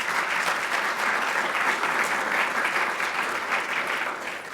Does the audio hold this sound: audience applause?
yes